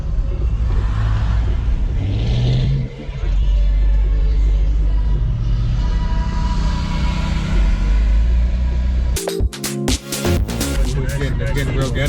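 Cars leaving a car show at a Regal Cinemas parking lot do burnouts. Engines rumble and rev loudly and close throughout, then a sharper, choppier burst of revving comes near the end.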